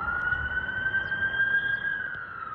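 An ambulance siren in Elizabeth wails steadily throughout, a sustained rising and falling tone at moderate distance over low rumbling background noise.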